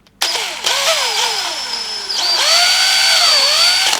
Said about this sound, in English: So let's drill a hole here,